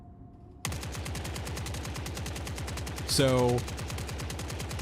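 Rapid automatic gunfire from a weapon in The Forever Winter rattles in a long, even burst after a brief quiet start, loud and close, with a short tonal whine partway through and a single spoken word over it.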